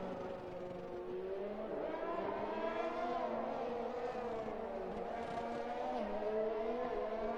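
An AlphaTauri Formula 1 car in a racing video game on a flying lap, its engine a continuous high-pitched whine rising and falling through gear changes, loud and steady throughout.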